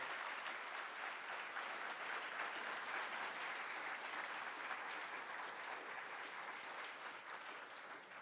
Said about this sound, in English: Please give them a big hand of applause for being here today.